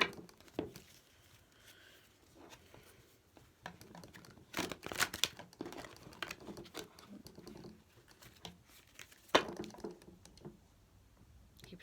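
Soft papery shuffling and flicking of a card-reading deck, quick irregular riffles and taps close by, quiet with no talking.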